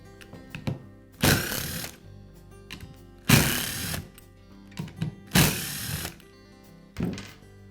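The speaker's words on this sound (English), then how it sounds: "I'll begin by removing the motor housings from the grinder." Motor housings come off a Metabo angle grinder during a brush holder repair, with a few sharp plastic clicks and three longer scraping, rustling pulls of the housing. All of it is close and there is no talk.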